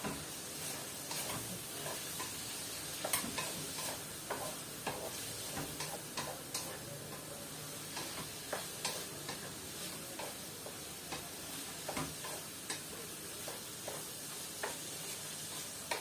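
Food frying in a pan on a home stove, with a steady bed of sizzle and crackle broken by frequent sharp pops and ticks, as of stirring, running close and even throughout with no talking.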